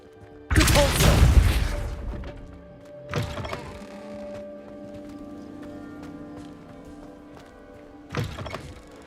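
Spell blasts in Hogwarts Legacy, including the Repulsor charm: a loud whooshing burst followed by two shorter thumping impacts, with a lingering tonal hum between them.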